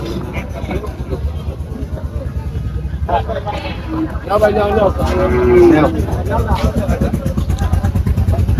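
Cattle low loudly and close at a busy Faridpur cattle market, one long moo standing out midway over engine rumble and crowd noise, with people talking throughout.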